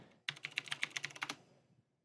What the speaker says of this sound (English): type in those current credentials